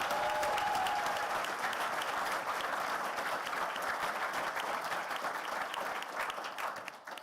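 An audience at a conference session applauds, a dense sustained wash of clapping that holds steady and then fades out over several seconds.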